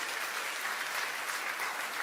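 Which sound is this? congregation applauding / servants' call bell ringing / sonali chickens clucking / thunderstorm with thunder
congregation applauding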